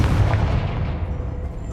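Confringo fire spell blast in Hogwarts Legacy, a loud rumbling explosion already under way that sustains a heavy low roar and slowly fades over a couple of seconds.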